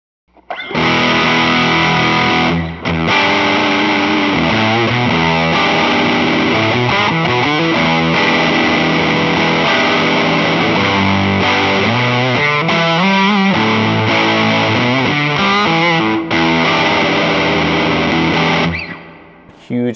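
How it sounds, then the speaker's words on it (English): Electric guitar played through a Stew Mac Sun Fuzz kit pedal, giving a thick, loud, saturated fuzz tone that sustains steadily through a run of notes and chords before stopping abruptly. "Huge sounding, really great, kind of well-known fuzz tones."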